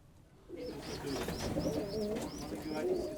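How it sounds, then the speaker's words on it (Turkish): Racing pigeon squabs in their loft, about 25 days old, coo in a steady series of soft, rising calls, close by and continuous over a low background murmur. "Bunlar izleyip gördüğüm kuşlar."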